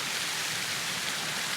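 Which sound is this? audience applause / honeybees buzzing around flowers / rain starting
rain starting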